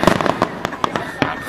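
Fourth of July fireworks burst in a string of sharp cracks and booms, several loud reports spaced irregularly across a short span, with faint crowd noise between them.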